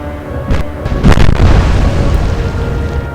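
Naval gunfire shell explosion in the Atlantic Fleet video game, set in an alternate Battle of Jutland: a loud booming blast with a sharp onset and rumbling decay, layered over a steady low background.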